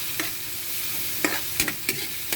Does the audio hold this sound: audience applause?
no